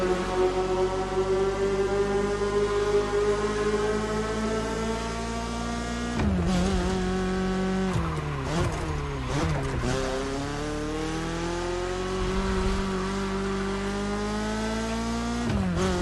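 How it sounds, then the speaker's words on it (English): A car accelerates hard at full throttle. Its loud, close engine note climbs steadily and dips briefly at each of several quick upshifts, then keeps rising. No voices. "Really full throttle, pedal to the metal business here."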